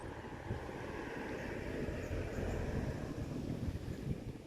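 Cold wind blows steadily by the river where the Huai Thap Than meets the Mun River, a low rushing roar buffeting the microphone, fairly faint and constant with no voices.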